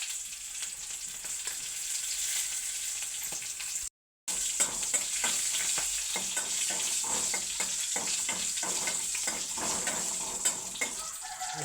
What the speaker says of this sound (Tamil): பச்சை மிளகாய் எண்ணெயில் வதங்கினாக்கா நல்லாயிருக்கும் டேஸ்ட்டாக